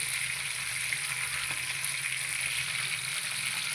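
Fish coated in red masala spices fries in a pan with a constant, close crackling sizzle of hot oil, alone and unbroken for a few seconds.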